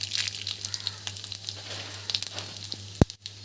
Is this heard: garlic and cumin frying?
yes